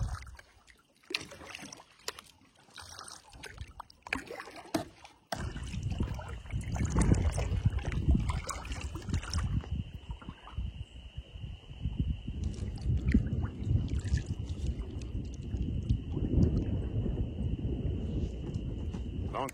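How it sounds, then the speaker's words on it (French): Water lapping against a kayak, soft irregular splashes and knocks at first, then a steady close sloshing and gurgling against the hull for the rest of the stretch. "Ça me manquait à entendre le clapotis de l'eau"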